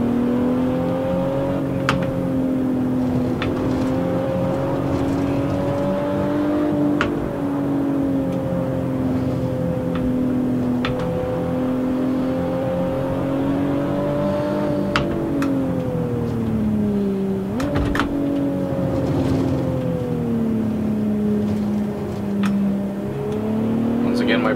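Racing video game car lapping the Nordschleife, a steady loud engine drone rising and falling with throttle and gear changes, a few sharp clicks and bumps over the top, no talk.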